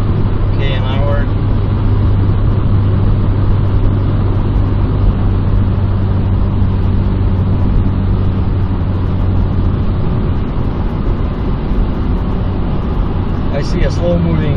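Steady, loud road and engine rumble inside a car cruising at about 112 km/h on a highway, a continuous low drone with tire noise throughout.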